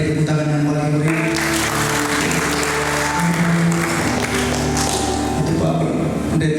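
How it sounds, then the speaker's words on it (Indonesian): Loud, sustained applause from a church seminar audience, dense clapping by many hands for several seconds, with music and a few voices underneath. "Ya, kita beri tepuk tangan yang paling meriah"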